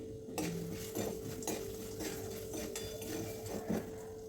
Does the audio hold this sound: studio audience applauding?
no